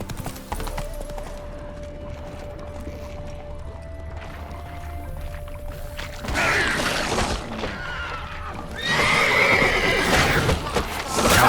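Roach the horse in The Witcher 3 gives a loud, shrill neigh and whinny, with clip-clop hooves and game ambience beneath, the calls rising strongly in the latter half.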